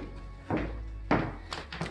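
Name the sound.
coat closet door being opened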